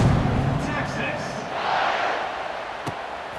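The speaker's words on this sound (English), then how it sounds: "this crowd is feeling themselves after that last drive" A stadium crowd in the video game College Football 26 roars steadily in the background, a broad sustained cheer with a sharp thud partway through.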